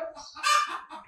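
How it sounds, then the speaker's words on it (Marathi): A hen gives a brief, nasal cluck-squawk lasting about a second, close by and fairly quiet. "हाकल दिला कोंबडीला."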